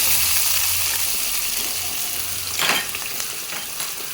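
Onions and curry leaves fry in a pan for a Kannada-style green gram palya, giving a steady close sizzle with a brief burst of louder crackle and stirring midway. No one speaks.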